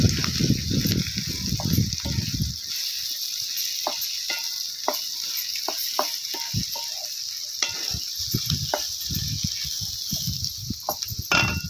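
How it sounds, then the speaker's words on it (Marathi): Okra (bhindi) is sautéed with cumin in a pan for besan bhindi masala, giving a loud, continuous close sizzle with crackling bursts and the scrape of stirring throughout, with no voices. "ह्याच्यामध्ये आपल्याला ही भेंडी परतून घ्यायची"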